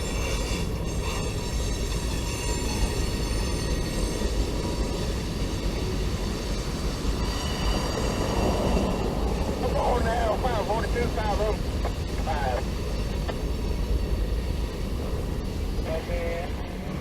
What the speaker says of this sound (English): This train is long and it's slowing down.